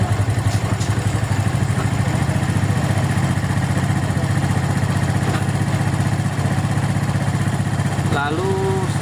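A Suzuki Smash motorcycle engine idles steadily during a carburetor adjustment, a close, even, low putter with light mechanical clatter that runs the whole time, and a short tonal blip near the end.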